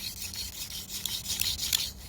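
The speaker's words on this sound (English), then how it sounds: "Hand drill, just spend maybe 30 or 40 seconds. Just kind of going back and forth, warming the board up." A wooden hand drill spins back and forth against a wooden fireboard for friction fire, giving a steady close rasping rub that continues throughout.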